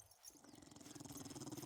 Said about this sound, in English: That's got a dog there, too.